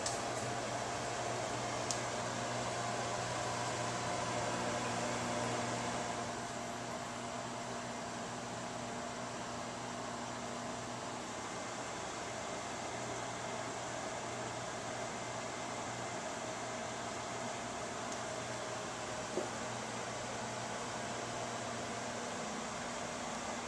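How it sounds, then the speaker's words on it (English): A microwave oven hums steadily while heating water to a boil, a faint continuous drone with a slight drop in level after several seconds and a couple of tiny clicks. "That's 11/100ths of a kilowatt hour to boil our water in the microwave oven."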